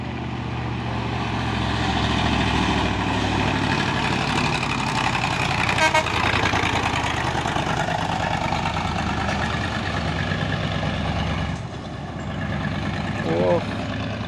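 A Mercedes-Benz container trailer truck rumbles past on the road, its heavy engine roar steady and near, with traffic noise and a brief horn-like toot. People talk throughout.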